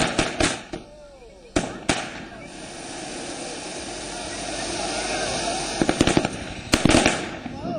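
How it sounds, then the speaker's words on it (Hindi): Fireworks crack and bang in scattered sharp bursts, some in quick clusters, over a low whooshing background hum. "सहयोगियों ने जमकर आतिशबाजी की"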